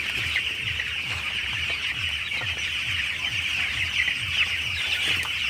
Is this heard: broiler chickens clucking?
yes